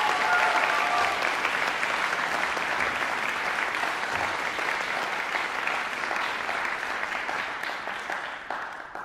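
An audience applauding students receiving awards at a school music ceremony, sustained dense clapping from a large crowd that stays loud throughout and tapers slightly toward the end, with no voices over it.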